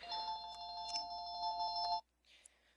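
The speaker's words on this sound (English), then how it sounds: "Oh, that phone." A telephone rings nearby with a steady electronic double-tone warble that holds for about two seconds and then cuts off sharply, followed by a faint short rustle.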